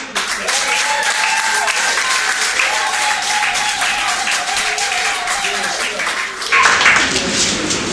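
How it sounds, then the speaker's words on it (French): Loud, sustained applause from guests at a civil wedding ceremony carries on for about eight seconds, swelling briefly near the end, with a voice faintly under the clapping. "l'amour. Applaudissements."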